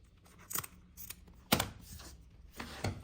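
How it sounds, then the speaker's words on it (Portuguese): Scissors trim the excess zipper on a fabric travel bag being sewn, three sharp, close snips spaced about a second apart over a quiet background. "Aqui você pode cortar o excesso de zíper, né, de um lado e do outro."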